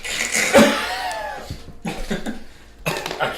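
A tabletop Dungeons & Dragons player voices a character erupting into a fit of coughing, a close, vocal imitation of several harsh coughs and throat-clearing bursts spread over a few seconds.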